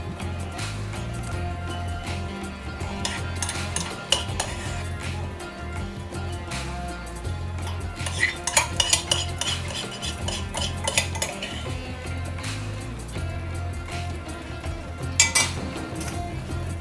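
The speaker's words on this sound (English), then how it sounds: "now we are going to plate the palak paneer" Palak paneer being plated, with metal utensils repeatedly clinking and scraping against dishes and pots in a kitchen, sharp clinks scattered throughout over a steady low background.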